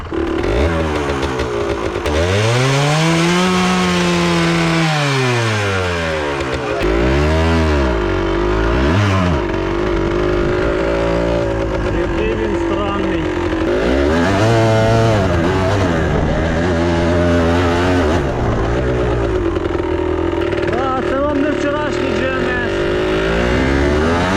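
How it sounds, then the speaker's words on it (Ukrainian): 2004 Kawasaki two-stroke engine running loud and near, its buzzy, raspy note swooping up and down through repeated revs and settling into a rough, uneven idle. "це Кавасакі, я точно розумію, а остальне не розумію. 2004 року двохтактник."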